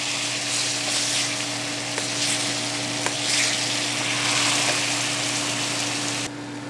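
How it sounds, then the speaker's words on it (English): Pork belly sizzling in a hot pan while being basted with its own juices, a loud, steady frying hiss with faint spattering and clicks before it drops off abruptly at the end. "baste this belly a little bit"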